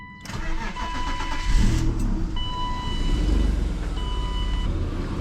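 A BMW M50 engine with over 100,000 miles cranks briefly, catches, and settles into a rough, slightly surging idle, heard close up with no talk.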